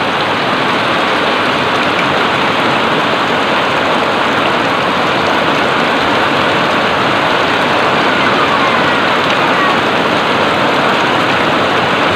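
Heavy rain pours down outdoors at the end of May as a steady, loud, unbroken hiss of drops striking surfaces, with no voices heard.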